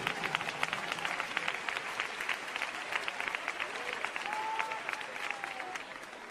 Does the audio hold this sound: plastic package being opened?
no